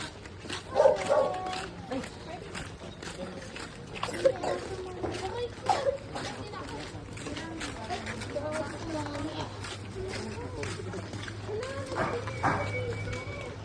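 A dog barks in a few sharp bursts near the start and middle, moderately close, amid outdoor background noise and people talking in Filipino.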